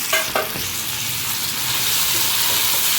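Tomato frying in a pan over onions for a prawn masala, a dense, loud, steady sizzle with a couple of brief clinks at the start, close and uninterrupted.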